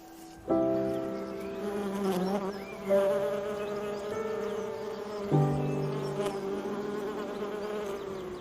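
Bees feeding around a flowering tree in a garden, buzzing in a steady, fairly soft drone that swells up a few times and then settles, with no voices.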